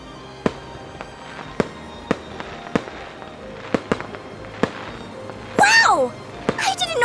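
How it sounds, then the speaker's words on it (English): Fireworks exploding in an audio drama: a series of distinct booming bursts at irregular intervals, some near and some farther off, followed by whistling, crackling rockets near the end. "I didn't know there were going to be fireworks."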